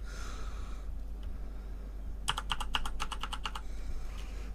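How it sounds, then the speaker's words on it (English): Typing on a computer keyboard while adding text in a photo-editing program, heard as a quick, even burst of about a dozen close keystrokes over a steady low background hum. "I'm just gonna type in here telephone dot"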